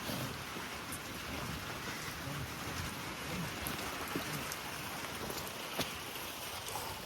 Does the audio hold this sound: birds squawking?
no